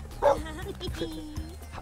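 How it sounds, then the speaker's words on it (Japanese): A dog in The Sims 3 lets out a short bark followed by several yips and whimpering sounds, close and clear, while a person talks over it. "つうかこの犬"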